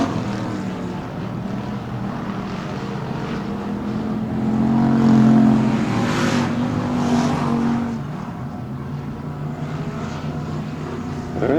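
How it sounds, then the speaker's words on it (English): A race car on a dirt oval track roars past, its engine swelling loudly as it nears midway, then fading back into the steady drone of other cars circling at a distance. "this car going by right now"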